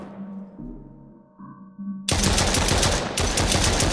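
Gunfire from a Glock pistol in a video game comes as a sudden loud burst of rapid, close shots after a quieter, tonal stretch, with a brief gap before the firing resumes.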